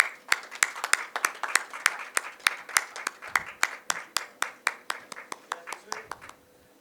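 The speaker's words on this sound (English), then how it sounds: "Ladies and gentlemen, a huge round of applause." At the Filmfare Awards Punjabi 2025 ceremony, an audience claps in a steady rhythm, with sharp, distinct claps about three per second, loud and close, thinning out near the end.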